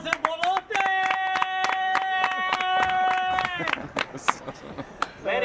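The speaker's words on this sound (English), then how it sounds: "One round of applause for the best cameraman in Brazil, Bolota!" A small group at a poker tournament gives a brief round of clapping, with sharp scattered claps under a sustained tone and people talking nearby.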